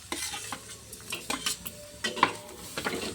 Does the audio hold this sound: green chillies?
yes